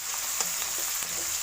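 Chicken fries in a pan with mint and coriander, giving a steady close sizzle throughout with a few faint stirring scrapes.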